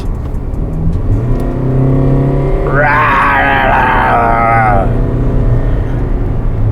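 A Hyundai Grand Creta diesel engine hums under talk, then revs up hard for about two seconds with a rising, close, loud roar before settling back to a steady drone.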